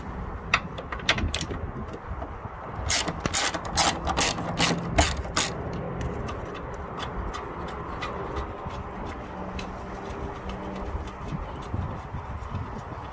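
Ratchet wrench loosening bolts on a Hyundai Genesis Coupe clutch rod, with bursts of rapid clicking pawl strokes, quiet and close, plus scattered metallic taps.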